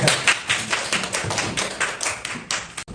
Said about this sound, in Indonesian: Beri tepuk tangan dan semangat untuk kelompok